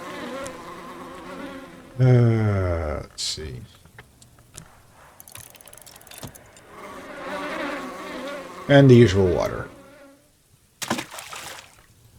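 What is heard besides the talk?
bees buzzing at a beehive in video game Book of Hours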